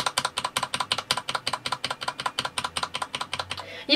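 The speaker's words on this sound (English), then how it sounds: "And if I just repetitively press one key" A single key on a non-mechanical computer keyboard is tapped over and over in a fast, even rhythm, each press a soft, close click, about eight per second, with no talking.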